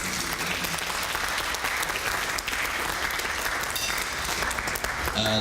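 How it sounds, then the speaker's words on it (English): Sustained audience applause at a McMinnville City Club luncheon honoring the event's sponsors, dense and steady throughout without a break, fairly loud and filling the room. "How about a round of applause for all of our sponsors?"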